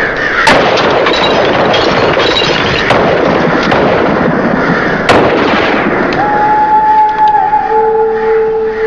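Gunshots fired in woods near a hall, sharp loud reports cutting through a dense, steady roar of background noise, with a rising siren-like tone entering near the end.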